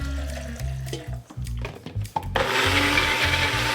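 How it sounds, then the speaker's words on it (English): A small bullet blender whirs through garlic in short pulses that start and stop, then runs continuously at full speed toward the end. "Throw them in the bullet blender."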